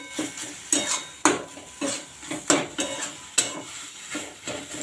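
Red amaranth greens being stirred in a cooking pan with little oil: a spoon scrapes and clinks against the pan in a steady rhythm of sharp strokes, close up, with a faint sizzle beneath.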